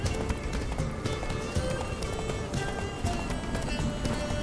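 Horse galloping in The Witcher 3: Blood and Wine, a steady rapid clatter of hooves under dense game music and ambience, continuous and moderately close.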